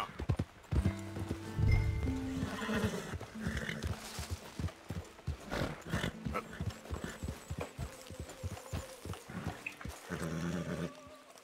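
Horse hooves clip-clop along at a walk in Red Dead Redemption 2, irregular and fairly close, over low ambient game sound, with occasional speech in between.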